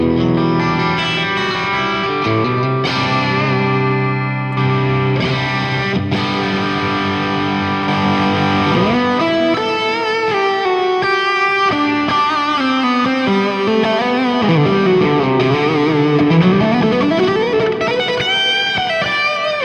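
Crunchy distorted electric guitar through a Fractal preset set up for worship music, with added reverb and delay. Sustained chords and melodic lines ring out loud and steady with a long wet tail, and no one speaks.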